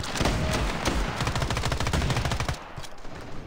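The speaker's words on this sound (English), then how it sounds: "Shooting me through walls, man." Rapid automatic gunfire in the mobile shooter Standoff 2, loud close bursts of rattling shots for about two and a half seconds, then thinning into scattered fainter shots.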